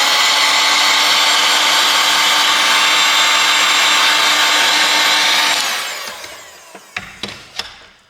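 A heat tool blows on the flex cable of an AT&T Propel 3 5G phone during a teardown, a loud steady whooshing hum that winds down, followed by a few sharp clicks and taps.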